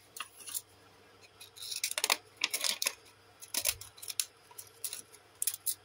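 Small pinking scissors snipping paper while decorating a handmade journal, a series of crisp close clicks and crunches in irregular bursts with short pauses between cuts, no talking.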